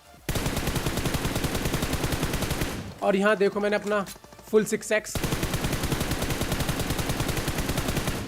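Sustained rapid gunfire from the mobile battle-royale game BGMI plays loud and continuous, stops while someone talks briefly, then resumes as dense automatic bursts.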